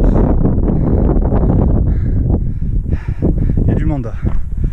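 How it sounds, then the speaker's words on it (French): Gusty wind buffets the microphone with a steady low roar, while people talk close by over it, outdoors at the Rocher de Roquebrune in the Var, France, in winter. "le vent me décoiffe."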